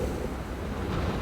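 Strong wind gusting through the upper Stimson Creek Valley, a steady broad roar with buffeting against the microphone, loud and continuous with no voices.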